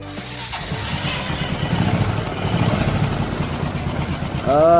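Honda Supra 125 motorcycle engine idling with a worn cam chain, a steady close rattling, ticking chatter over a low rumble, revving up briefly at the end.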